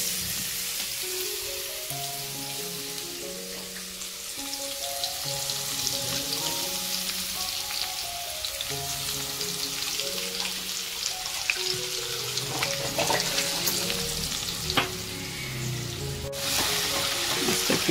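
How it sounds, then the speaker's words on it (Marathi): Garlic sizzles in hot oil for a spicy crab curry, a continuous crackling fry with a rain-like spatter. Faint stirring taps come through as it grows slightly louder toward the end. "3 चम्मच मोठे तेल टाकले. त्यानंतर टाकलं लसूण."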